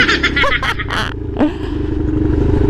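A Yamaha Mio motor scooter with a quick throttle is ridden on a street, its engine a steady loud drone with a brief rise near the middle, with passing traffic and background chatter around it.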